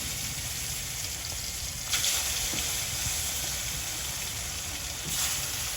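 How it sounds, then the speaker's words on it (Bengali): Pangasius fish pieces coated in turmeric and salt fry in a pan, giving a steady, even sizzle with two short louder hissing surges. "ভাজার জন্য দিয়ে দিচ্ছি মাছ"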